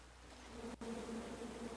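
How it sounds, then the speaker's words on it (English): A swarm of bees in King's Quest hums as a steady, low buzzing drone that briefly cuts out and then resumes, close and alone without speech. "Oh, shit, there's the bees."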